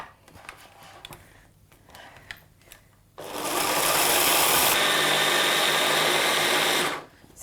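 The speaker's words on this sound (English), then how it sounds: "And then you just want to whiz it all up." Food processor whizzing a no-bake cheesecake base of nuts and maple syrup, a few quiet clatters and then a loud, steady whirring blend of about four seconds that stops abruptly.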